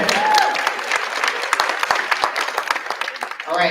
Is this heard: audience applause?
yes